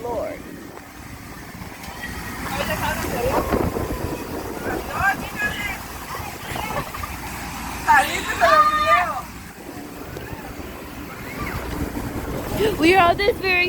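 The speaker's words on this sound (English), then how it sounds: "We are on this very, very huge boat." A very large boat rumbles along on open water with wind and a steady low engine drone, while people talk and call out over it.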